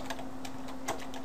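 Keys tapped on a computer keyboard while entering a browser program name on a Windows 7 PC, a few soft, quiet clicks spread unevenly over a faint steady hum, with no talking.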